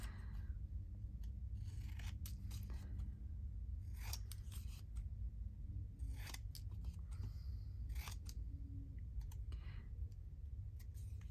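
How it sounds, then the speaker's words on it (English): Scissors snip through paper to cut out small oval and square labels, a series of quiet, crisp clipping cuts in irregular bursts against a faint background hum, close and soft. "And we will cut out this oval one and that little square one here."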